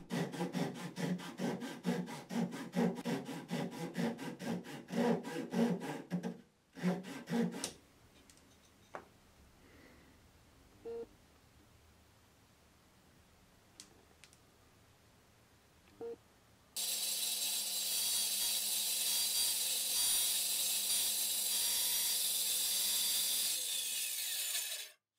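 A hand saw cuts wooden kumiko strips held in a length jig: a loud, rhythmic run of back-and-forth strokes, then a quieter stretch with a few light taps, then a second steady, dense burst of sawing.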